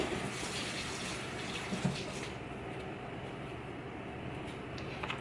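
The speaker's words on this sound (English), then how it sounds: "Let me go wash my hand first." A kitchen tap runs steadily while hands are washed during fish preparation, a continuous close splashing rush with small shifts in flow and no talk.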